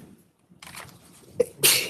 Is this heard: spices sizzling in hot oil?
no